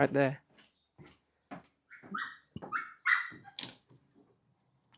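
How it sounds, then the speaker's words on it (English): A dog barks and yips several times in short bursts, close by, mixed with a person speaking briefly. "Sorry about the barking. That's my dog"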